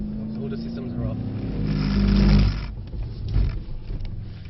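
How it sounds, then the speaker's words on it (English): A Mercedes-AMG 63 on a driving-experience track revs hard with its wheels spinning for grip, the engine roar rising to a loud peak and then easing, with brief talk from people in the car. "When you can hear the engine going like that, and you're not going anywhere, you're spinning the wheels."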